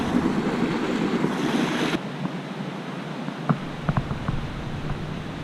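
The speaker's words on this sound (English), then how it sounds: "Look at the amount of water running off of this mountain." Water rushing off a mountainside near an old mining ghost town, a steady broad roar heard close and continuous, briefly louder before easing, with wind buffeting the microphone and a few light clicks and knocks.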